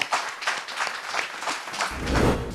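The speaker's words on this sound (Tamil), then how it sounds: "ஒரு உற்சாகமான கைத்தட்டல்கள்" An audience at a stage talk event claps in a short, lively burst of applause, dense scattered claps heard fairly close with a low rumble near the end.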